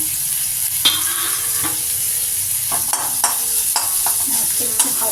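Finely sliced onion fries in a pan for soup momo, a steady close sizzle broken by several sharp stirring clacks and scrapes of the spatula.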